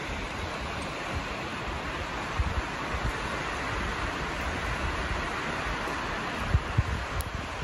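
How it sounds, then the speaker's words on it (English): Strong wind roars through tall trees outdoors, a continuous broadband rush with occasional low thumps and gusts, loud and close, with no voices. "Wow, that's wind."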